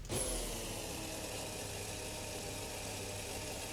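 The hybrid V6 of the Formula Hybrid 2022 S race car in Assetto Corsa idles at about 3950 rpm, a steady, dense, buzzing drone that holds even throughout with no revving.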